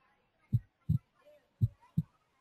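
Through a stethoscope, someone's heartbeat comes as four deep, muffled thumps in two lub-dub pairs, close and clear against near silence.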